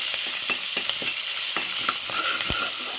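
Green chillies sizzle and crackle in hot oil alongside frying urad dal and chana dal in a pan, a steady close hiss broken by sharp pops and spatula scrapes, with no talking.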